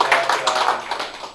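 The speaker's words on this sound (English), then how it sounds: "big round of applause for the Avenue having us down" A round of applause for a café venue at a live comedy show, a dense steady wash of many hands clapping close by, fading slightly toward the end.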